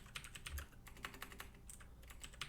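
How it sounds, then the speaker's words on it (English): Rapid, irregular clatter of typing on a computer keyboard during a tabletop game session, keystrokes close and fairly quiet, arriving in bursts with short pauses and no talking. "Now we can all sit here and judge John's typing ability"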